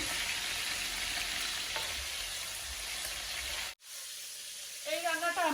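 Chicken pieces fry in about two cups of hot cooking oil, giving a dense, continuous sizzle that cuts off abruptly, followed by quieter hiss and a short burst of voice near the end.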